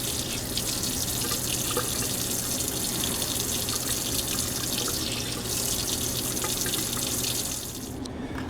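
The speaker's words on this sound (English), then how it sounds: "spoonfuls of water and add it to your cake mix." Water runs in a steady, close trickle as it is added to Easy Bake Oven cake mix in a bowl, continuing evenly without talking and easing off near the end.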